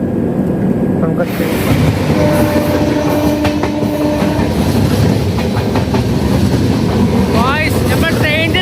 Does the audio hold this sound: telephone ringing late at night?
no